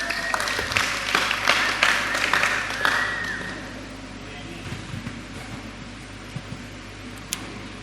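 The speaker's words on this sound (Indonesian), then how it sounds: "Kita berikan tepuk tangan." An audience at a church testimony session in Gunungsitoli claps for a few seconds, with scattered, uneven hand claps that thin out and fade to occasional single claps.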